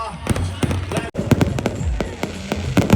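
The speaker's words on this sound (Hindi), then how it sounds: "ये आतिशबाजी" Fireworks burst at an evening Dussehra celebration, a rapid series of sharp cracks and pops repeating across the sky, loud and close, with crowd voices and chanting mixed underneath.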